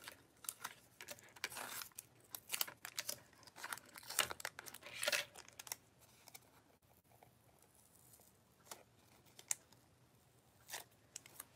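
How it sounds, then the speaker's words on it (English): Die-cut stencil layers peeled off a sheet make dense crackling and tearing sounds, busy and close for the first several seconds, then thinning to scattered faint crinkles and ticks. "So now we can peel this off."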